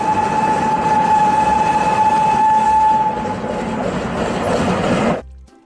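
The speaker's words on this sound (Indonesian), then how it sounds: "Wow, lihat teman-teman, yang ini kereta Thomas." A Thomas toy train plays a steady, loud recorded rail rumble with a sustained horn-like tone, then the sound cuts off abruptly near the end.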